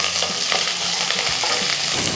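Continuous crackling sizzle of onions frying in a hot pan, with steady stirring scrapes, close and loud throughout.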